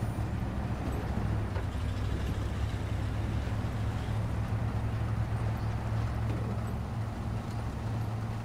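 Truck engine in the SnowRunner video game, a small engine under heavy load hauling a flatbed with a crane, gives a steady, loud, low droning rumble that continues without break throughout.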